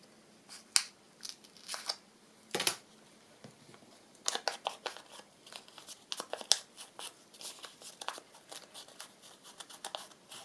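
Scissors cut a white bit of paper for a handmade folio at close range, giving intermittent snips, rustles and crinkles with uneven pauses between bursts.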